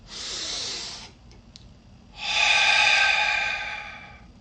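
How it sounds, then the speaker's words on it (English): A deep breath drawn in through the nose, heard close and alone as a soft airy rush, then a pause with faint clicks and a second, longer and louder breath that slowly fades. "take a deep breath through your nose"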